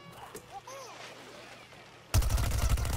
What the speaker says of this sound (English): let me go into Gatling mode.